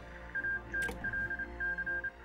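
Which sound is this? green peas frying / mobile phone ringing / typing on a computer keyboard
mobile phone ringing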